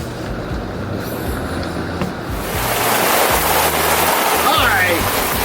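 Heavy storm runoff pouring off a structure, a steady loud rush of water with broadband surf-like roar that swells after a couple of seconds, alongside low rumbling.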